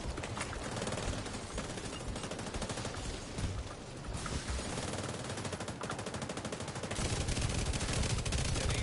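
Rapid, continuous automatic gunfire in The Division 2 rattles loudly and up close in dense bursts, with a heavier volley near the end.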